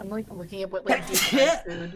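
A single sneeze bursts out mid-sentence, sharp and close, with someone talking casually just before and after it.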